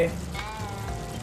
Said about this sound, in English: just put these diced tomatoes in there